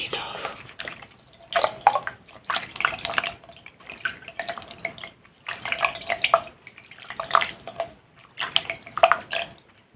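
Water splashes in repeated close bursts as a face is washed off during a relaxing spa facial, with soft drips and sink-like sloshing between each scoop.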